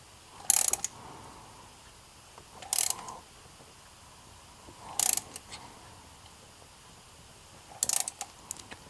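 A ratchet wrench snugs bolts on a KO Racing turbo kit for a 2RZ/3RZ engine, four short bursts of rapid clicking spaced a few seconds apart, close and crisp against a quiet background.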